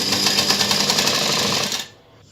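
A sewing machine stitches a sleeve round into the armhole of an Anarkali garment, a fast steady mechanical chatter running close and loud for about two seconds before stopping abruptly.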